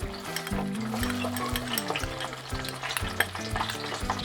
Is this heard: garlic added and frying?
yes